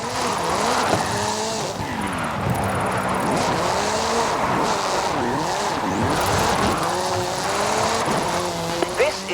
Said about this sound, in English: Mr. Kenneth Block's Hoonigan Gymkhana 10 Ford Focus RS RX. 2-litre, turbocharged, front-mounted engine and all-wheel drive